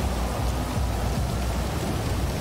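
Heavy rain pouring in GTA V, a constant loud hiss of drops on surfaces with a low rumbling undertone, steady and unbroken throughout.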